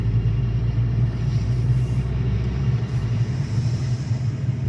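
A 2008 Volkswagen GTI running a swapped engine drives along with a continuous low rumbling drone, moderately loud and steady, heard from inside with no talking.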